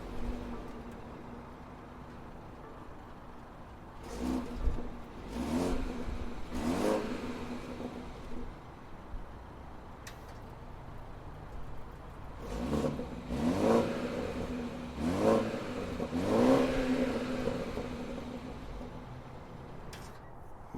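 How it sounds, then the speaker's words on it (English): A 2021 BMW 430i with dual exhaust turns over and starts, then gives several short revs that rise and fall in two clusters, heard from a moderate distance over a low idle. "let's start the car up so you can get an idea of how this exhaust sounds like"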